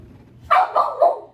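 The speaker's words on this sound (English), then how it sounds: "I don't respond to barking." Three quick barks from a dog, near and loud, the last trailing slightly lower.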